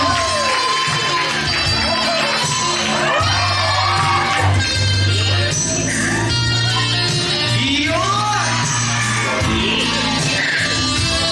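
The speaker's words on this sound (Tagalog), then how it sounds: "isang bagsak naman po for Jackson Dumagon para sa kanyang sexy dance" Wedding guests whoop and cheer in a loud, continuous crowd roar during a sexy dance performance, with shouts rising over music-like tones throughout.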